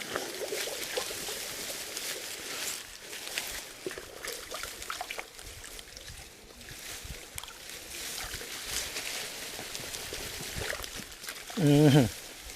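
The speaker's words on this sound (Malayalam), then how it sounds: "ഒന്ന് വെള്ളത്തിലിട്ടിട്ട് മണ്ണൊക്കെ ഒന്ന് കളയാം" Harvested ginger from grow bags is swished in a bucket of water to rinse off the soil, giving faint sloshing and trickling close by, with intermittent talking over it.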